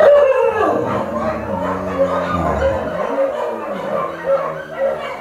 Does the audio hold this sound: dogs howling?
yes